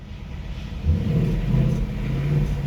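A 2018 Ford Mustang GT with its active exhaust in quiet mode gives a brief rev. The deep engine rumble swells and holds, muffled and low, close by with no talking.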